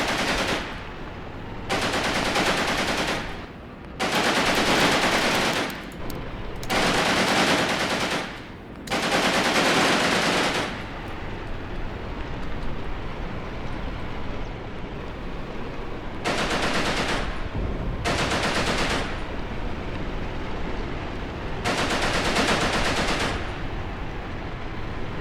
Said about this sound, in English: These two tanks are advancing well, shooting at enemy infantry as they go.